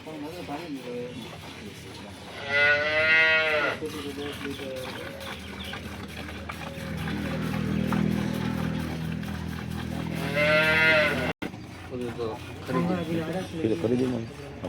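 Cows on a dairy farm, including one close to calving, let out two long, drawn-out moos several seconds apart amid steady farm background noise, while a person talks throughout.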